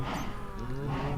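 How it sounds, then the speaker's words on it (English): A Minecraft cow lets out a single drawn-out moo, moderately loud and close, on a farm packed with animals. "I just put in what I think is the last cow"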